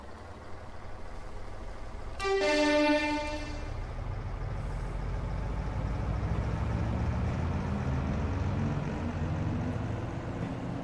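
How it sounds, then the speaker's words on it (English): A diesel railcar engine in a train simulator game rasps steadily after a brief loud horn-like tone, the low exhaust drone building as the throttle opens. "We can hear a bit of a rasp on the exhaust as well"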